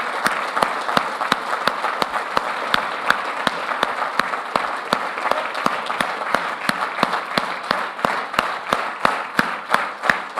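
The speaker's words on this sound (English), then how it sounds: "I would like to clap for all of you and each other, all of us clapping for each other's success" A summit audience claps for one another in a steady, loud unison beat, sharp regular claps riding over a continuous bed of scattered applause from a large crowd.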